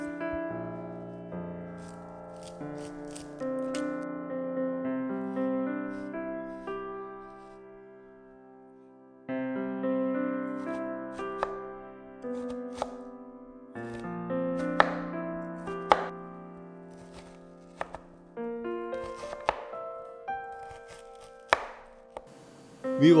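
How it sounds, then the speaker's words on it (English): A knife chops one large onion on a board, with sporadic sharp chops that come more often toward the end, heard over gentle background music. "Now, chop up one large onion."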